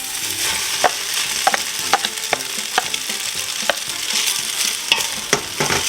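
Egg noodles being stirred with cooked onions in a pan for lazy pierogi, a sizzling bed broken by repeated sharp scrapes and knocks of the utensil, close and fairly loud, with no talking.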